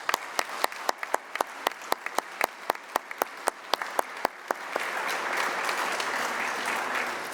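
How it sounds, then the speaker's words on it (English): An audience at a university education department convocation claps for new staff: first distinct, sparse individual claps, then a broad, steady wash of applause from many hands, moderately distant. "We have one more round of applause for all our new staff."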